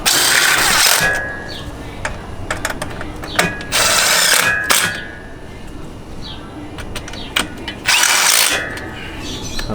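Working on a 2020 Vespa GTS HPE, a ratchet turns a T40 screw, giving close, loud bursts of rapid clicking pawl ratchet noise separated by quieter handling sounds and small metallic taps.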